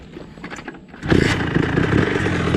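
A restricted Rieju 80 Airsal motorcycle engine, quiet at first, then revving up loudly at about one second and holding a raspy, buzzing two-stroke drone close by.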